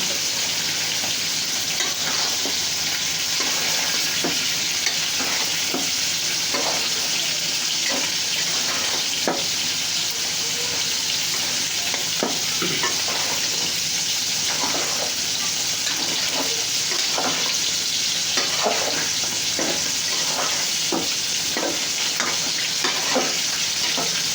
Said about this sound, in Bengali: এখন হচ্ছে আমার কাঠুরিটা কষানো হচ্ছে